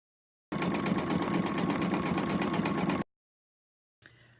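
Embroidery sewing machine stitching at high speed for about two and a half seconds, a dense rapid mechanical whirring and clatter that stops abruptly, followed by silence and a faint brief tail.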